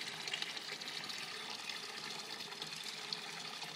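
Water pours steadily from a steel spillway into a cement koi pond, a continuous close splashing gush with no pauses and no voices.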